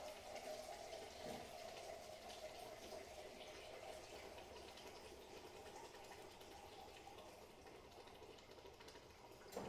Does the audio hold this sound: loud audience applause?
no